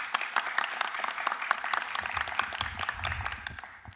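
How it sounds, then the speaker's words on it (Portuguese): An audience gives a round of applause to a doctor at a talk on dairy farm sustainability, with dense, lively clapping that stays strong before tapering off near the end. "Eu peço uma salva de palmas à doutora Daniela."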